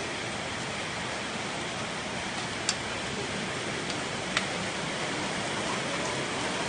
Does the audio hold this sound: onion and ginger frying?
no